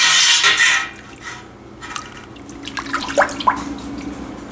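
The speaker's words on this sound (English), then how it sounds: "Now curds love to stick together, so that's why you just got to keep stirring." Goat milk cheese curds are stirred in liquid whey for Monterey Jack, giving wet sloshing and dripping sounds close by, with a louder swish at the start followed by softer, irregular splashes.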